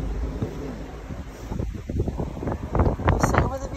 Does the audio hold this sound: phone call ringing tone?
no